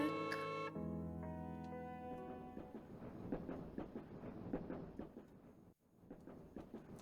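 Rhythmic clatter of a train rolling along in the video game Tales of the Black Forest, a steady repeating beat that follows a sustained musical chord at the start and carries on quietly without talk.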